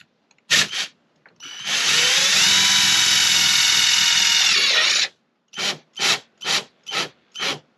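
A power drill drives a screw into slide-out trim: a few short bursts, a sustained whir of about three seconds, then several quick pulsed bursts, loud and close.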